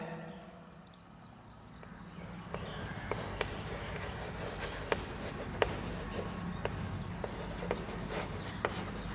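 Pen or pencil writing on paper, a steady scratchy rubbing with small sharp ticks as strokes end, close and fairly quiet with no talking.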